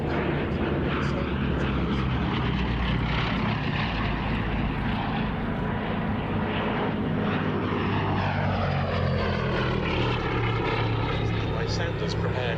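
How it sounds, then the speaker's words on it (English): Two Westland Lysander propeller aircraft fly at the RAF Duxford Battle of Britain airshow, their loud, steady engine drone filling the scene and sweeping in pitch as they pass. "And here come the two Lysanders in from the right."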